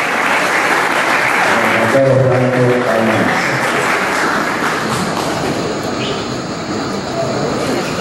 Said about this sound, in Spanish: Con sus pitas, los premiamos con un aplauso.